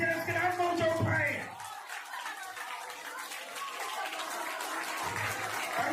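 A Pentecostal church congregation claps loudly in praise as a dense, continuous wash of hands. A voice speaks briefly over it at the start.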